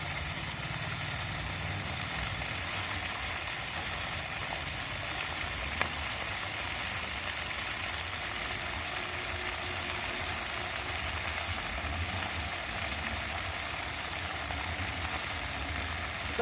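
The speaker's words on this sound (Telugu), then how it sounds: "బాగా ఆయిల్లో బాగా ఫ్రై చేసుకోవాలి" Vegetables such as brinjal frying in plenty of hot oil, a steady continuous sizzle with broadband crackle that holds evenly throughout, close and moderately loud with no voices.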